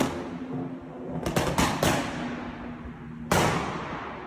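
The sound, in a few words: BMW M140i exhaust pops and bangs from artificial tune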